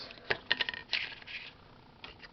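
A deck of print-and-play cards for a Peloponnes game is shuffled close by in quiet, brief rustling bursts with a few soft riffle flicks and taps.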